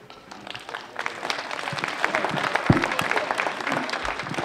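Audience clapping at an elementary school spring concert, a steady wash of applause from a crowd in a hall, moderately loud and continuous.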